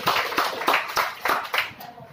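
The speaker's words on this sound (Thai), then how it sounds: "ปรบมือให้เพื่อนด้วยค่ะ" A small group claps for a classmate at a charm and personality club session, about six distinct rhythmic bursts of hand clapping, close and fairly loud.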